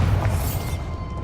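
A Bombarda blasting spell goes off in Hogwarts Legacy, one short, loud booming burst with a crackling, shattering tail that fades within a second.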